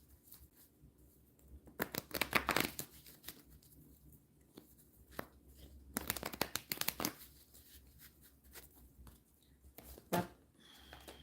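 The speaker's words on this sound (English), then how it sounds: "We're going to shuffle again" Tarot cards are shuffled up close in several bursts of crisp riffling and flapping, with quieter pauses between them and a final short shuffle near the end.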